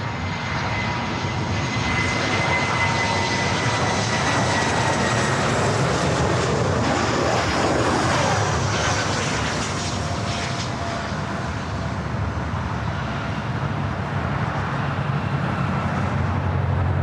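A JetBlue Airbus A319 airliner arriving from Portland roars past at LAX, a sustained loud jet rumble that swells and sweeps in pitch as it passes, steady throughout with no voices.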